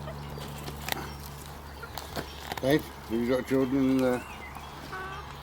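Farm chickens clucking in a short burst of rising, stuttering calls, close and moderately loud, while people talk nearby and other faint barnyard noise sits underneath.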